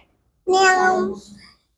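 A child imitates a cat's meow, one clear drawn-out close meow lasting about a second, alone in quiet.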